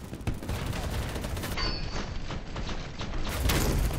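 Game gunfire from a REM 700 sniper rifle in the shooter BattleBit, heard as a few sharp cracks over a steady din of battle noise and distant shooting.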